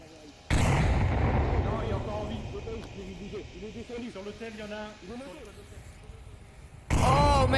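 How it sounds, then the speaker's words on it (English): Loud gunfire and a grenade blast in the VR shooter Onward during a competitive match, with sharp bursts at the start and end and a sustained noisy roar in between, while a commentator talks over the action. "that nade going just a little too far"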